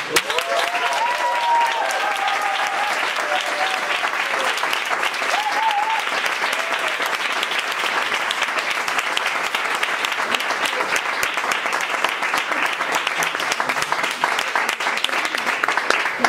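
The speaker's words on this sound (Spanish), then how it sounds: "Por eso recibimos con el mejor de los aplausos" Studio audience in a Spanish television show applauding steadily and loudly throughout, a dense continuous clatter of many hands with faint crowd murmur and a few whoops underneath.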